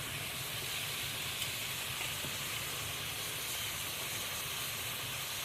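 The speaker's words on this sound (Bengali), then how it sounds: "এখন সব কিছু ভালোভাবে কষিয়ে নেব।" Ground cumin, coriander, chili powder, salt and garam masala being fried and stirred in a pan for a Bangladeshi duck curry, making a loud continuous hissing sizzle close up with no talking.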